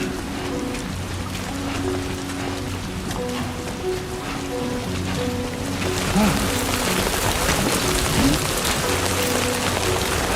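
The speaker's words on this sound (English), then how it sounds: "Raining in the desert" Rain falls in the desert in Death Stranding 2, a dense steady wash of patter that grows louder partway through, layered over low sustained music tones with no one speaking.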